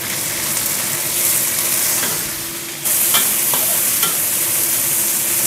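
Chicken dropped into hot oil with garlic and shallots, a loud steady sizzle and frying crackle filling the whole stretch, with stirring scrapes and a sudden surge of hiss as the food goes into the pan.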